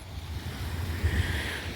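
Ocean waves wash and surge in a steady broadband roar, with wind buffeting the microphone and a low rumble throughout; no voices.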